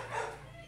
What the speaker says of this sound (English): my dog just don't want to shut up